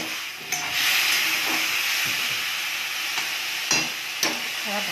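Water splashes into a pan of frying spices with tomato and green chili for an Indian curry, setting off a loud, steady hiss and sizzle of steam, with a few clanks of stirring along the way.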